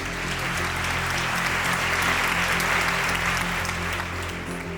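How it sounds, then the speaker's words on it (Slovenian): Audience applause welcoming a speaker onto the stage at a talk event in a hall, a dense, steady clapping from a sizeable crowd that holds at an even level throughout. "Lep, velik aplavz, prosim,"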